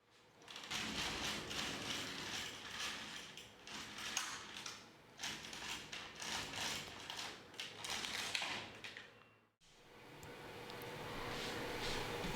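An LK150 knitting machine carriage passes back and forth along its bed, knitting rows of a ruffled-edge neck warmer with rapid clattering, ticking bursts. The passes are separated by short pauses and end with a quieter stretch.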